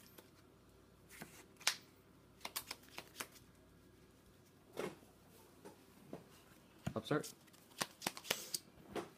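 A hand of trading cards is shuffled during a tabletop card game match, with several brief rustling bursts spread across the stretch, soft and close, while people talk.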